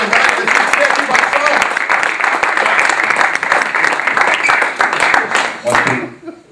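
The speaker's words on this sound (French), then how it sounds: "Hey, on applaudit." Audience applause at a live comedy show, a dense continuous wash of clapping that stays loud throughout and fades near the end, with voices mixed in.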